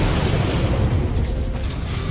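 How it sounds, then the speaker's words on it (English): A Force explosion ability goes off in the SWTOR video game as a sustained, dense rumbling blast, loud and heavy throughout with no clear attack or pause. "Force explosion is an insta-wipe"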